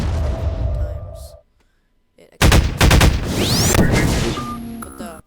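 Machine-gun-style primary fire from a rifle in the video game Garry's Mod rips out in loud, dense bursts, with a short silent gap between volleys and metallic ringing tails.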